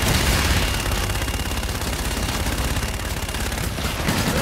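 Gunfire from the video game Call of Duty Infinite Warfare forms a dense, continuous roar of rapid shots and rumbling blasts, loud and unbroken throughout with no voices audible.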